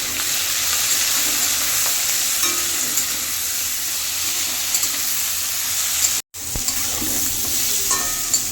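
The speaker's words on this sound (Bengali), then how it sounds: "ভাজা হয়ে গেছে সজনে ডাঁটা, অল্প করে হালকা করে ভেজেছি" Drumstick pieces (sajne danta) fry steadily in hot oil seasoned with turmeric and salt in a kadai, a dense continuous sizzle with faint stirring clinks, briefly cut out near the end before resuming.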